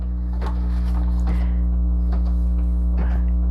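An embroidery machine stitches a tack-down on a towel, with a loud steady motor hum under about four evenly spaced soft mechanical thumps from the needle and hoop movement.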